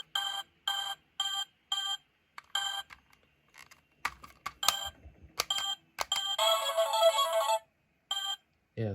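Electronic beeps from a Simon-style memory game's buttons: a run of short, evenly spaced bright tones, then a scattered cluster of clicks and a longer sustained buzzing tone, close and clear.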